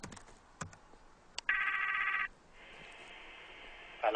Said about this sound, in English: I simply have to open the application and dial Lee's number